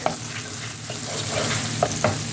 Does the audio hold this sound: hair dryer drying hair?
no